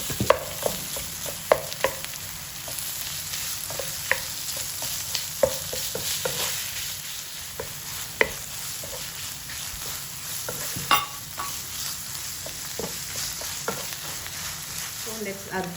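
Ground pork fries in a pan with a constant sizzle, broken by repeated sharp scrapes and knocks of a spatula stirring it. No one speaks.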